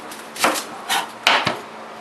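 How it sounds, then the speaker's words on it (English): A knife chops onions on a cutting board, giving four or five sharp, close wooden knocks in an uneven rhythm, with quiet pauses between cuts. "I'm going to cut up some onions here from my caramelized onions."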